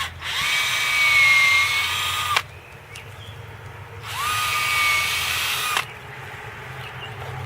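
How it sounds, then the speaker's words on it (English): A power drill boring into a tree trunk for microinjection runs in two steady whining bursts of about two seconds each, close and loud, separated by a short quiet pause. "I'm going to drill"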